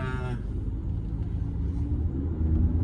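Low, steady rumble of a 2021 Lexus RX350's 3.5 liter V6 engine, a constant close drone with a brief brighter tone at the start, no talk.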